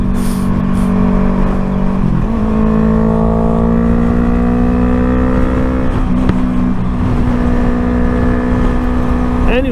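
Motorcycles on a twisty road rev hard and loud, with engine notes climbing and falling in repeated swells as riders accelerate through the bends.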